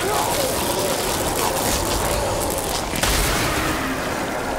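Charge shots fired at zombies in the Black Ops 3 video game, a dense continuous barrage of loud gunfire and booming blasts, with a sharper burst near the end and a voice talking underneath.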